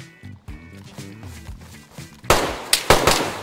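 Gunshots in the DayZ survival game ring out as a few sharp, loud cracks in the final second, preceded by quieter thuds and game movement sounds.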